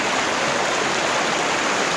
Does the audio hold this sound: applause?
no